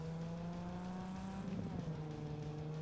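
Car driving in a video game, a steady engine hum with a constant tonal drone and a brief rougher burst midway, moderately loud and without talk.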